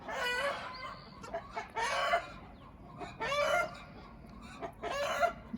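Garden chickens clucking and squawking, several loud, harsh calls in separate bursts with softer clucks between them, close by, with some calls stretching into crow-like cries.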